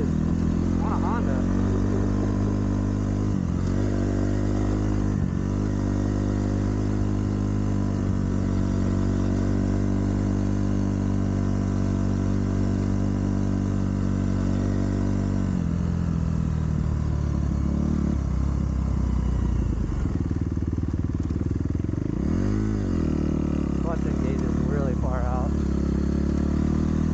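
A Kawasaki KX250F dirt bike engine runs continuously and loudly while being ridden, droning and revving with rising and falling pitch through the whole stretch.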